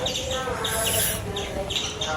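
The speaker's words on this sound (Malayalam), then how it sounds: "പിന്നെ കിളികൾ കരയുന്നുണ്ട്" Birds chirp and tweet repeatedly in short bright bursts, fairly close, over a steady background hum with faint voices.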